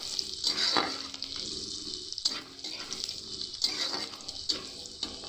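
Garlic and onions sizzle in a pan with a bright, crackling hiss, interrupted every second or so by a scraping stir of the spatula.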